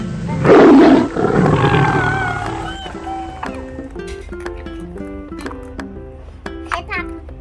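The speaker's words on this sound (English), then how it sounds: "tiger." Toy tiger giving a loud recorded roar, then fading into a chiming toy melody of short repeated notes, close by, with a voice mixed in.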